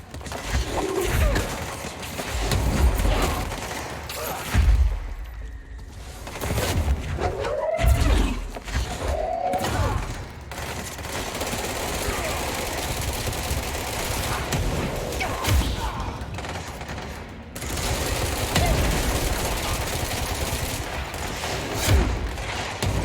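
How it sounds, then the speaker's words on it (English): Heavy bursts of gunfire rattle through a firefight in the video game Control, with rapid volleys, booming impacts and brief lulls across the stretch, loud and close, with occasional speech. "Who's shooting that?"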